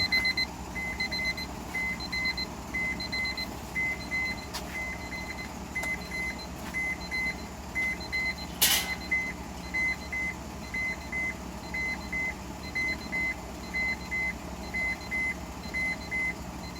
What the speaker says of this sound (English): it's beeping at me